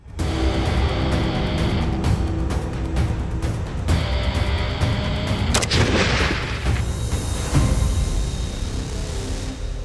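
Weapon fire during a military training task for a reality show, heavy and continuous with repeated booming shots and rumble over about ten seconds, loud and close, with no talking.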